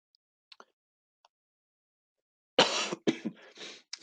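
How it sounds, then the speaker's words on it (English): A person with a cold gives a few harsh, close coughs and throat clears, a sudden loud burst after near silence with only tiny clicks before. "Excuse my cold and cough."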